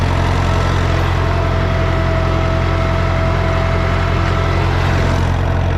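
A small red tractor's diesel engine runs steadily while towing a roller across a field, a loud continuous low drone with a faint whine above it and no pauses throughout.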